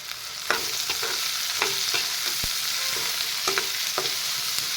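Onion paste stirred in a hot pan with turmeric and salt for a brinjal curry, a continuous sizzle broken by repeated scraping strokes of a spatula at an even rhythm, close up with no voices.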